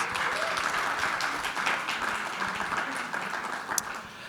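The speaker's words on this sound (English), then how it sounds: "can we give Taha Shah Badussha a round of applause?" At the Film Conclave 2024, a crowd greets actor Taha Shah Badussha with sustained, even applause from many hands, forming a thick, continuous wash of clapping with no talk over it.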